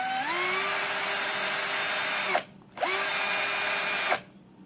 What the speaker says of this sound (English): if you're trying to drill a pretty big hole